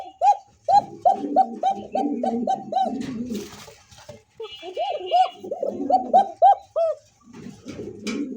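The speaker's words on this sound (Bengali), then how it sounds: "দর্শক দেখতে পাচ্ছেন চমৎকার একজোড়া ককা কবুতর আছে" Lahori pigeons coo close by in repeated rolling bursts, a few calls at a time with short gaps, deep throaty phrases rising and falling throughout.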